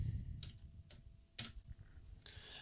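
Sparse keystrokes on a computer keyboard, four or five distinct quiet clicks spaced irregularly over a faint background hum, no voices.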